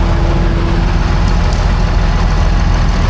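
Antique tractors at a steam threshers show idle and rumble together as they line up for a tractor drive, a steady, loud low engine drone running throughout.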